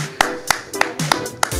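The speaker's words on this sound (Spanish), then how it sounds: "Fuerte el aplauso para Grego Rosselló Vélez" A handful of sharp hand claps ring out at a Spanish-language show, about six crisp, separate claps in an uneven rhythm, close and without talking.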